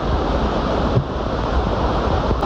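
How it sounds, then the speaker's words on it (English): A swollen river rushing during a typhoon on a rough off-road route, giving a dense, continuous roar of fast water that stays loud and unbroken throughout, with no voices. "we just crossed this river, and look at this, it's swollen"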